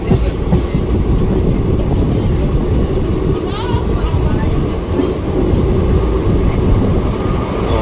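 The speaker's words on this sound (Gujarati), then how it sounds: "માલગાડીનું ક્રોસિંગ છે એ પણ હું તમને બતાવીશ" Goods train crossing at Jetpur station, a steady loud rumble of rolling wagons that continues without a break, with voices in the background.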